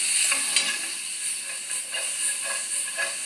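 Bacon sizzles and crackles in a pan as it nears crispness, a loud continuous frying hiss with regular pops and bursts of spatter, and no talking.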